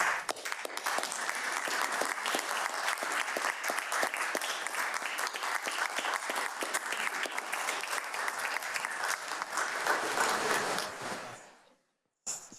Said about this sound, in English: Can the whole team please stand up so you can be recognized as we're clapping?